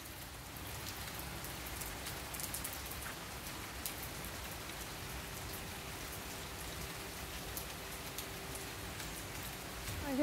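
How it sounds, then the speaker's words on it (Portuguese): Steady rain falling and pattering on surfaces, a constant broadband hiss throughout with a faint hum underneath. "Contemplando essa chuva maravilhosa."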